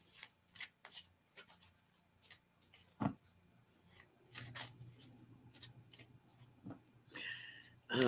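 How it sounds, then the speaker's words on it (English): Cards are pulled from a deck one after another, with soft irregular slides, snaps and rustles at close range, quiet and scattered with short pauses between them. "I'm just gonna pull cards here"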